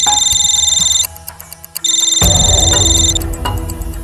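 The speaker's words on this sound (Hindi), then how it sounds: "सर, फॉरेंसिक से मिस्टर राव का फोन था" A telephone rings in a police office in a crime drama, loud electronic trills in two bursts with a brief pause, then a lower-pitched clatter as the ring continues.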